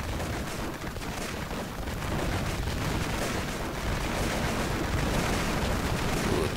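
Dense, continuous battlefield gunfire from a Total War: 1942 battle, with a T-34 tank firing back at infantry; loud rapid shots and booming rumble overlap in a steady, chaotic barrage without pause.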